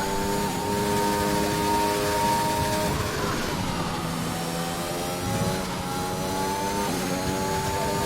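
An F1 car's engine in the F1 2021 racing game at the Italy circuit screams at high revs, with a brief drop in pitch near the middle as it shifts, then climbs again in a continuous close whine.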